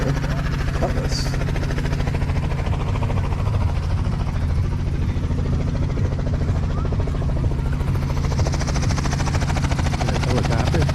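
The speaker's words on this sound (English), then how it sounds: "Helicopter." A helicopter flies steadily overhead on an overcast day, its loud rotor chop and engine drone continuous and unbroken for the whole stretch, with no talk over it.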